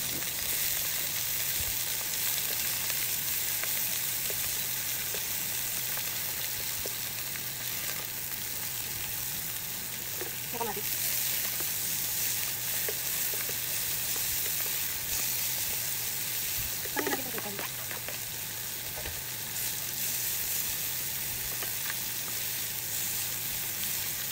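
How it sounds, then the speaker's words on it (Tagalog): Garlic, onion and tomato sauté in a hot pan with Chinese celery, giving a loud, steady sizzle throughout, broken by a couple of brief stirring scrapes. "pwede na natin igisa yung bawang, sibuyas at kamatis, tapos ng kinchay"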